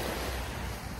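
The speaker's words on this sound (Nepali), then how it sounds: "हेर्नु समुद्र चाहिँ यति छेउमा आइसकेको छ" Sea waves wash close to the shore near Kuwait City, a continuous broadband rush of surf and water with some wind noise on the microphone, fairly loud and without talk.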